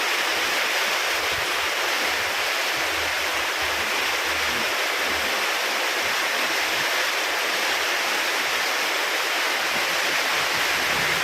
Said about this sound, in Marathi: वारा आणि पाऊस सोबत चालू आहे